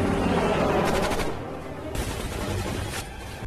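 Rapid machine-gun fire from a helicopter in the 2007 action film Shooter, a dense, loud, continuous rattle of bursts with rumbling blasts beneath.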